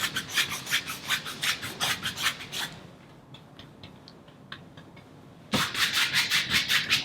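Paint brush scrubbing crisscross strokes on canvas, a rapid rhythmic rasping that pauses for a few seconds of quieter, sparse touches before resuming strongly.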